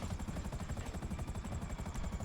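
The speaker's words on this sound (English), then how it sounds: "I am putting my other helicopter away" A helicopter in GTA Online, its rotor thumping in a steady, fast rhythm over a constant engine drone, loud and close, with no talking.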